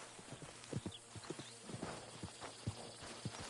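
Hooves clip-clop at a steady walking pace from a horse in the Red Dead Redemption video game, a series of distinct hoof strikes over a faint low background hum.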